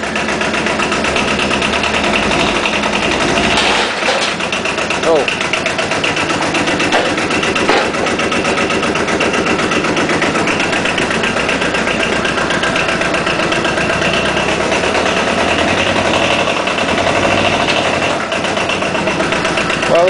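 An Arctic Cat ATV's diesel engine runs steadily in reverse, a loud close drone with a rough mechanical rattle that holds for the whole stretch, no talking over it.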